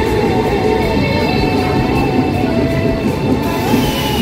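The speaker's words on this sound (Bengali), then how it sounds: "ইতালির অন্যতম দ্রুতগামী ট্রেন ইতালো" An Italo high-speed train in Italy stands at a station platform, giving off a steady, loud mechanical hum with faint tonal whines and a broad rumble that stays level throughout, with no talking.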